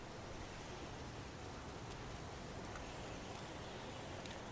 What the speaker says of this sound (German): Es regnet wie aus Eimern.